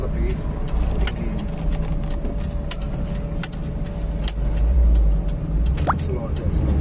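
Daihatsu Espass minivan fitted with a blackcore engine driving, a steady low engine drone with road noise running throughout, swelling slightly near the end, with voices talking over it.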